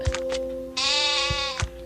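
Sheep bleating in the video game Mini World: a long, sustained harmonic bleat with a couple of short bleats around it, close and clear over a steady electronic game tone, with no talking.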